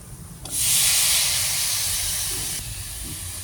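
Chopped tomatoes dropping into a hot pan for prawn gravy, a sudden loud sizzling hiss that bursts in and holds steady for about two seconds before easing off.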